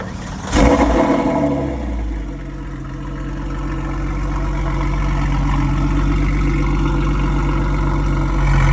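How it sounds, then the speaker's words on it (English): A Spider RS supercar engine leaving the lot: a sharp burst near the start, then a loud, steady, deep rumble that holds and swells slightly to the end, with no one talking. "Can you give me a little rev on the way out?"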